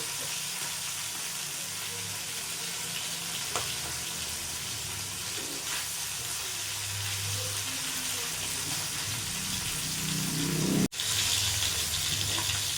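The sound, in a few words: hilsa fish frying in a pan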